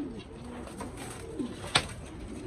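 Pigeons cooing in a loft, Aleppo, Australian and Pakistani breeds, soft low repeated coos near the microphone, joined by a quick wing flutter and a sharp click toward the end.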